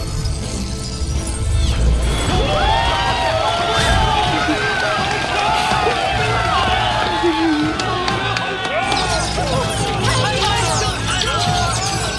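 A large crowd cheers and roars continuously in a Swallowed Star animated battle arena, loud and close, with shouts and whoops over a dense layer of noise and a voice speaking throughout.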